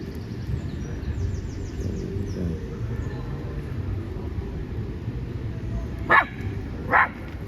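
A dog gives two sharp barks near the end at a pro-Palestinian street protest in London, rising above a steady crowd hum and distant bird chirps.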